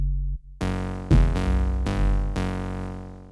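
Saw-based synth bass preset from Tantra built on two Model D saw waves, one pitched down two octaves, for an Afro House track, playing a short melodic line of sustained, buzzy notes that step between pitches alone, with no talking.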